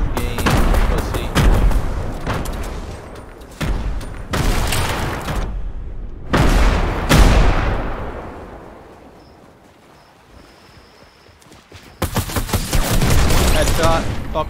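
Video game battle with loud, dense bursts of rapid gunfire and explosions in long barrages, a quieter gap with a distant crack in the middle, then heavy firing again.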